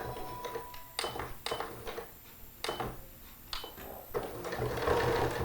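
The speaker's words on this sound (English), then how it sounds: "now I'm going to go and sew this seam. All right, so we're at the sewing machine" A sewing machine runs in short bursts while stitching a seam, with quiet rattling pauses between the runs and faint handling noises, fairly soft and close.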